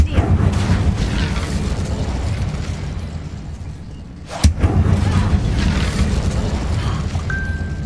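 A sharp burst of fire from the Incendio spell in Hogwarts Legacy, one sudden loud whoosh-pop midway over a steady rumbling game soundscape.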